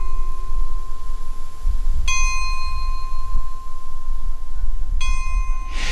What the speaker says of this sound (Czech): V jejím čele najdete krásnou zvonkohru, která v každou celou hodinu zahraje cinkavou melodii.